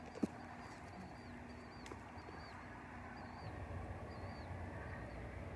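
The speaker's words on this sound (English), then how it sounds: "You hear the birds?" Small birds chirp at sunrise with repeated short, faint calls spaced through the clip, set against steady outdoor background noise.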